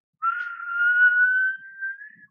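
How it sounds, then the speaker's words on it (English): A tea kettle gives a single shrill, steady whistle that holds for about two seconds, rising slightly in pitch before cutting off. "when it was all bubbly and hot, it starts whistling"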